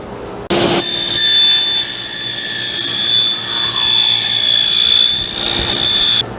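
A power saw cuts a straight edge along a sheet of plywood for a camp stool, a loud steady whine running continuously for about five and a half seconds with no talk.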